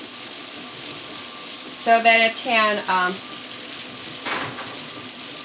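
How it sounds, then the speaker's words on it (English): Water poured onto a silk scarf layered with thin merino on a wet-felting rolling machine gives a brief splashing, sizzling pour under quiet speech, with a softer trickle following. "going to put it on the machine and gradually add water"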